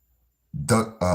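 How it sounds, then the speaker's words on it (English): A single loud, close burp from a man, rising out of silence about halfway through and carrying on in a rough, voiced rumble to the end. "Excuse me, I had to burp."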